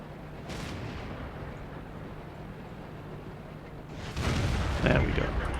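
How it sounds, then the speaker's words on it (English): A T32 tier 8 heavy tank in the video game World of Tanks fires its cannon: one loud, deep boom with a rumbling tail near the end, after a stretch of low engine-like drone. "first of all, we're going to take a shot at this AMX."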